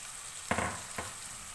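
Mixed pickle is stirred into a sizzling pan for achari daal: two quick spoon scrapes burst over a low, steady fry hiss.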